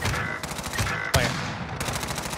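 Rapid M4A1 rifle fire in a first-person shooter game's search and destroy mode: close, steady automatic bursts with one sharper crack partway through.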